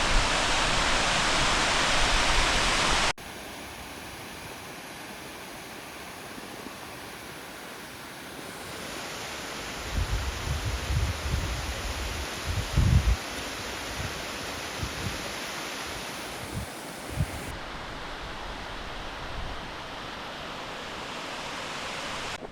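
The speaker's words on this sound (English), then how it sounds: "Made it to the waterfall." A waterfall on the Goat Lake trail in Idaho's Sawtooth Mountains roars as a constant broadband rush, loud at first, then steady and softer, with occasional low wind buffeting against the microphone.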